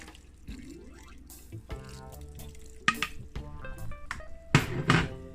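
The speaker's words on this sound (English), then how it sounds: "Throw a little water on top." Water trickles and splashes onto a strainer over strained solids in uneven bursts, with dripping and gurgling that grows louder toward the end, close by.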